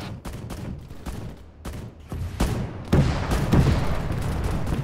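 Rockets and heavy weapons fire in an Arma 3 battle, a rapid series of sharp, loud blasts and thumps building into dense continuous rumbling, with no voices.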